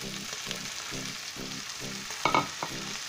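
Peas and rice frying in a pan while being stirred, a continuous close sizzle with regular rhythmic scraping strokes roughly every half second and a brief louder clatter near the end.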